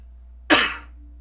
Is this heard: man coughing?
yes